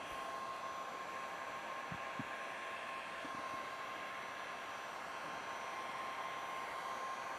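A hair dryer or heat gun running on a low setting while waxing suede, a steady close blowing whoosh with a faint hum, a few small knocks of handling partway through.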